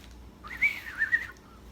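A person whistles a short rising and wavering tune imitating a bird's song, a single thin clear phrase of a few notes over a quiet background.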